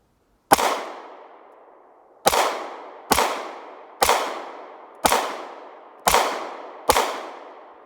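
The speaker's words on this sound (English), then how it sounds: "I'm going to shoot at that same little stump over there" Seven sharp gunshots from a Ruger-brand pistol with a 7-round magazine, fired outdoors at a tree stump. Each loud crack rings out briefly. One shot comes alone, then six follow at roughly one-second intervals, with no talking.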